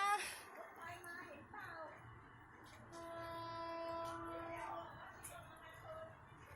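A train rumbles past at a distance at a level crossing while its horn sounds in long sustained tones, with people talking nearby.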